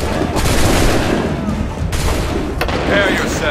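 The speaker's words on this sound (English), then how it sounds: "My signal. Fire now!" A musket volley rings out in the Assassin's Creed III video game as a dense burst of overlapping gunshots, loud and close, with shouted commands from soldiers heard among the firing.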